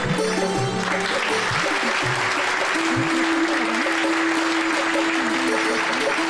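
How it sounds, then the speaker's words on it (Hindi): Crowd applause for wrestlers at a village prize ceremony, dense clapping over a continuous tonal music line, loud and unbroken throughout. "एक बार जोरदार ताली होनी चाहिए सभी पहलवानों के लिए।"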